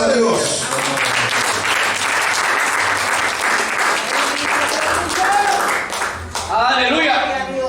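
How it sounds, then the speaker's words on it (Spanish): A church congregation claps together as an offering of praise to God, a dense, loud wall of applause that holds steady for several seconds before briefly dipping, with voices rising through it near the end. "Dale una ofrenda de palmas a Dios."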